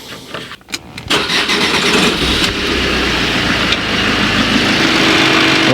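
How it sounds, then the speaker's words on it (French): Alfa Romeo MiTo hatchback engine cranking with a few stuttering turns, then catching and settling into a loud, steady idle, alone with no talk. "Ok, le moteur tourne un petit peu mieux là"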